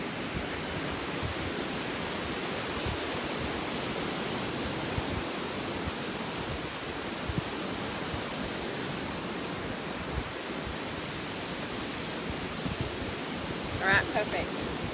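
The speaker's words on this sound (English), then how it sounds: "The sound of the waves, yeah." Steady wash of ocean surf rolls on shore, a continuous broad hiss with soft swells, faintly distant and uninterrupted.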